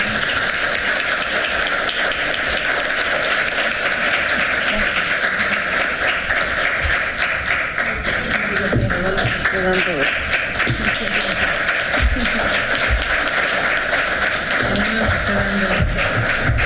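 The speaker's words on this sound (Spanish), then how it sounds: "Pues démosles un aplauso a los ponentes." Sustained audience applause at a Mexican academic panel on eradicating gender violence, dense steady clapping filling the whole stretch without pause, loud and close with a broad crowd wash.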